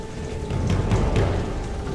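Light rain falling steadily on a dark path in a bamboo forest at night, a continuous soft hiss with low rumbling underneath, fairly even and close throughout.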